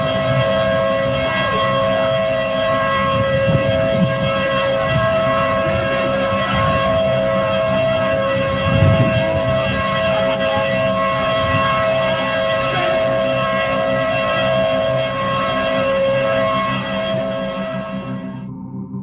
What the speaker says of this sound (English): you hear the sound of a Thunderbolt siren